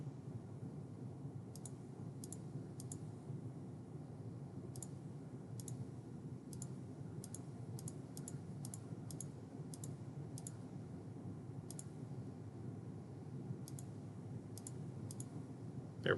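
A computer mouse is clicked at irregular intervals, each click faint and crisp against a low steady hum of room noise, with no talking.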